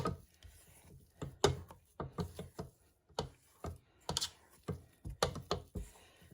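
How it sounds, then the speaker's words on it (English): Pineapple cookie dough is worked by hand in a bowl, giving a series of soft, irregular rubbing and squishing strokes, fairly quiet and close, with no talking. "I'm going to do one really nice mix by hand."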